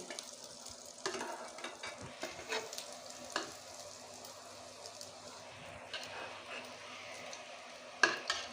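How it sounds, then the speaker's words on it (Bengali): Soybean dumplings frying in oil, a quiet steady sizzle with occasional soft stirring scrapes and one sharper clink near the end, no talking. "আমি এই মুঠাগুলো ভেজে নিয়েছি এখন আমি তুলে নিচ্ছি"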